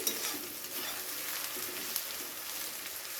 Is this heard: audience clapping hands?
no